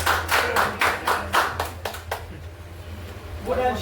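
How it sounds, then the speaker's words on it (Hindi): An audience at a business meeting claps in a steady rhythmic beat for about two seconds, then the clapping thins out and a voice begins speaking near the end. "जिन्होंने भी अचीव किया है आइए प्लीज, जोरदार तालियों से स्वागत करते हैं"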